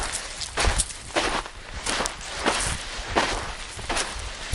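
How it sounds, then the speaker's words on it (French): Footsteps in cold outdoor air, a steady series of crunching steps at a walking pace. They fall roughly every half second, fairly close and alone. "Le bruit des pas."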